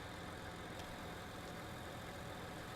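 A tractor engine in Farming Simulator 19 runs at a steady, low, even drone while driving, faint and unchanging, with no voices.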